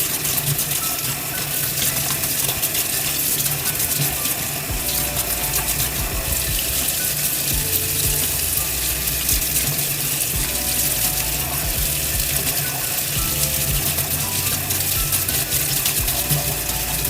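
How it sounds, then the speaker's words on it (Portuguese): Water runs steadily from a kitchen tap over a chayote being peeled, a continuous close hiss and splash with faint handling clicks throughout and no talk. "a gente vai descascar ele embaixo da torneira"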